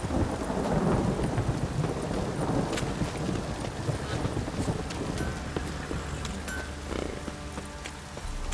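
Steady heavy rain with rolling thunder in The Witcher 3 video game, a continuous loud downpour with deep rumbles swelling and fading throughout, no voices.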